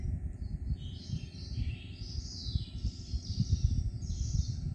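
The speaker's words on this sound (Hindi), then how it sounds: "ऊपर छत पे बहुत चिड़ियों की आवाज़ आ रही है चहचहाने की" Several small birds chirp and twitter continuously on a rooftop, a bit distant, over a low steady background rumble.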